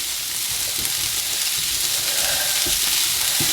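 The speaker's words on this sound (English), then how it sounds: "I'm going to add the carrot. Cook that off a bit." Chopped carrot fries in a hot pan, giving a loud steady sizzle with a few soft stirring knocks, close up and with no talking.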